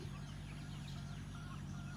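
Chickens clucking on a farm plot planted with Napier grass, the fowl calls sitting in steady low-pitched background noise without a clear break, fairly faint and continuous.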